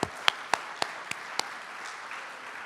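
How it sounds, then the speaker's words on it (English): Audience at a tennis hall of fame ceremony applauds in a large room, a soft, steady wash of clapping with a few sharper, louder claps standing out near the start before it fades gently. "So round of applause for Dom."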